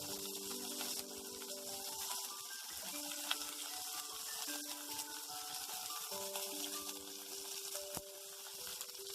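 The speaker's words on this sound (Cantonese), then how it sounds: "用中大火煎" Chicken wings for a honey-glazed dish pan-fry in a flat-bottomed pan over medium-high heat, giving a steady close sizzle and crackle with small pops and no talking.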